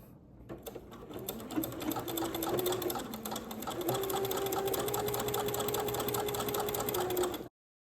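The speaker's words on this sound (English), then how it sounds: "I'm gonna zigzag stitch along this whole edge right here" Sewing machine running a long zigzag stitch along the edge of a color guard flag hem, a steady rapid mechanical whir with a faint rising hum, continuous and close for about seven seconds.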